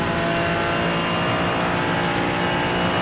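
GT3 race car engines, a Ferrari and a Porsche in a racing game at VIR, roar loud and steady at high revs throughout, with a continuous close engine drone and no talk.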